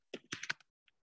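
Fingers typing on a computer keyboard, a quick burst of several close, crisp key clicks followed by one last faint tap.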